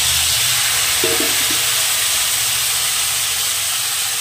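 Mutton dropped into a pan of browned fried onions, giving a steady loud hiss and sizzle with a brief clatter as the meat goes in.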